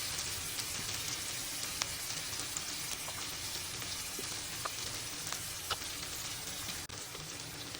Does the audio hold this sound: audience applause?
no